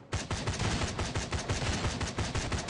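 Rapid automatic M16 rifle fire in the video game D.O.Z. Survival, a dense string of sharp, loud shots in quick succession with no pauses.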